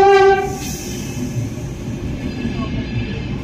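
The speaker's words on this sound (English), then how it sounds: "We are waiting for one of the northbound Pendolino trains, which is the fastest type of train in Portugal." A train horn sounds loudly at the start, then a Pendolino high-speed train rushes past in Portugal with a steady, rumbling roar of wheels on rails.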